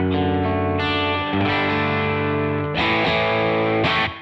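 An electric guitar played through a Tonex amp plugin in a DAW, recorded via a Universal Audio X6 interface, rings out as thick distorted chords, sustaining and restruck several times, loud and alone.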